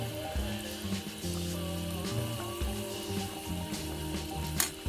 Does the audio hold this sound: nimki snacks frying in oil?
yes